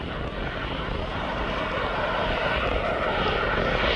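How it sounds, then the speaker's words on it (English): Jet2.com passenger jet at East Midlands Airport, a broad, steady engine roar that fills the whole clip at constant loudness, with no voices. "there's the Jet2.com plane that's now just come into picture"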